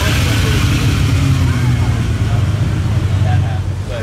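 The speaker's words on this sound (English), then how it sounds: "V12 Ferrari." A V12 Ferrari rolls past at an outdoor car-week gathering, its low engine drone blended into a dense wash of crowd and traffic noise, steady rather than sharply rising or fading.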